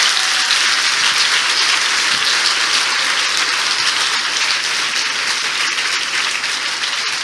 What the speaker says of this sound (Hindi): give a good clap for Jesus